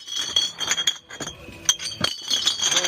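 Glass Topo Chico bottles clink and rattle as they drop into a scrap container, with several sharp bright knocks and jangles spread across a few seconds, close and busy.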